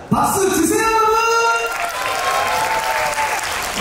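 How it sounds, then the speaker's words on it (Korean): An audience at a summer dance concert claps loudly ahead of a b-boy breaking performance, with a full, sustained burst of applause and a few whoops, while a voice speaks over it at the start. "박수 주세요 여러분."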